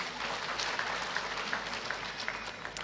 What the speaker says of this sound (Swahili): Tupigie Wamarekani makofi.